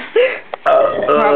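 Two people trade loud, close burps, a short belch followed after a brief gap by a longer croaking one, in a casual indoor setting with talking and laughter around them.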